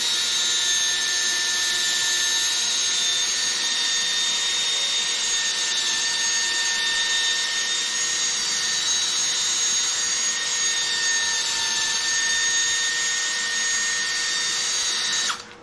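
A cordless drill spinning steadily while polishing a Toyota Prius headlight, a loud, continuous high-pitched whine close by that holds nearly unchanged before cutting off at the end.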